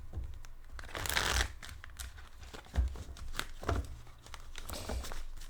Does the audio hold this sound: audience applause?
no